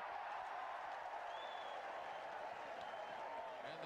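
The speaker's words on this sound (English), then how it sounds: "And the crowd are getting right behind this Welsh side." A rugby crowd at a 1987 Wales versus Australia match roars and applauds steadily throughout, a dense, distant wash of cheering and clapping with no break.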